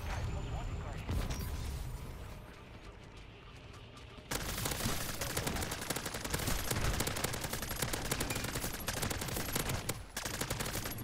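Rapid automatic gunfire from a weapon in MW3 Zombies rattles in dense, continuous bursts, growing louder and fuller partway through, with a player's voice talking over the shooting.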